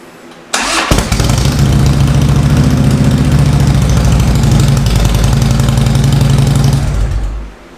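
A 2009 Harley-Davidson Road Glide with a freshly rebuilt starter cranks briefly, catches and settles into a loud, steady, loping idle close by, then shuts off at the end; no one speaks.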